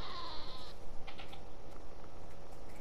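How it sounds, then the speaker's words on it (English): A goat in the Far Cry 5 game lets out a few strained, wavering bleats near the start, then falls quiet under steady background game ambience with scattered faint clicks. "Got an unhappy goat over there."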